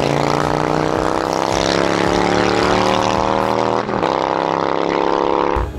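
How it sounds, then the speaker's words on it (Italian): Motorcycle fitted with a steel Zard exhaust and DB killer, its engine roaring loudly and steadily with a strong low harmonic drone, rising in pitch as it accelerates, then easing off near the end; no talk. "la cosa più bella di questo scarico è che fa un casino della Madonna, tira i tuoni"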